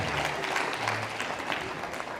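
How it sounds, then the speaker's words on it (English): An academic audience claps quietly for the people who handled a matter, a soft, dense patter of applause that stays fairly even and slightly distant across the short stretch. "Please clap for them, for it is not an easy job."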